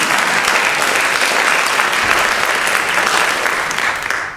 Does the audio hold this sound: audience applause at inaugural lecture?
yes